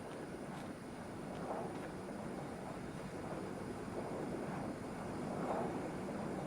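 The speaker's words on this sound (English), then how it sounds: "Oh, there's a jet." A jet aircraft roars overhead in a video game, a steady broad rumble of engine noise that holds throughout at moderate level with no one talking.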